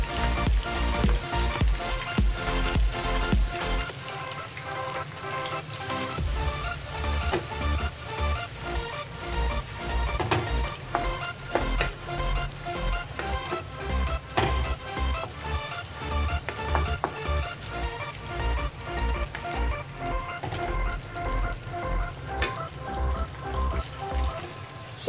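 Chopped tomatoes go into a pan of sautéing onions, a bright steady sizzle and crackle of frying with spoon stirring and clinks running throughout, loud and close with no voices.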